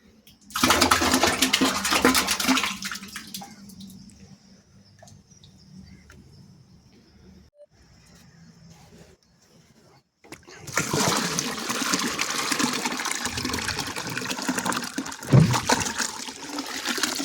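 Water gushes loudly from the opened tap of a 200-litre barrel holding a homemade liquid bio-fertiliser solution, pouring strongly at first, dropping to a faint trickle, then surging again into a steady splashing flow.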